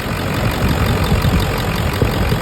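A Ford Powerstroke 7.3 diesel with faulty injectors runs rough and loud up close, a dense continuous clattering rumble with uneven knocking pulses throughout.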